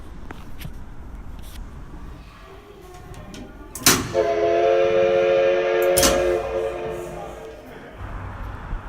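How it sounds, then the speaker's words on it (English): Ambience inside the Kyoto Railway Museum: hollow hall murmur, a sharp bang, then a sustained whistle-like tone lasting a couple of seconds before fading back to background chatter and footsteps. "This is the Kyoto Railway Museum."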